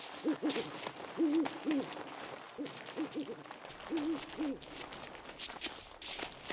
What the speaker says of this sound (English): An owl again.